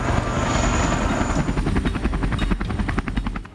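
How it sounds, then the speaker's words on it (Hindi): An Indian-made HAL LCH light combat helicopter flies close by, its rotor blades thumping in a fast, even chop over a loud engine roar that stays strong throughout. "भारत ने LAC पर LCH यानी लाइट कॉम्बैट हेलीकॉप्टर्स की तैनाती कर दी"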